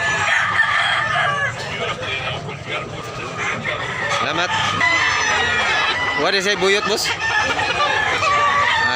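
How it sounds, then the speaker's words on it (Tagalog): Several roosters crow and hens cluck throughout a crowded Tabunok, Cebu chicken market, overlapping calls near and far, with people talking over the steady din. "Gandang manok."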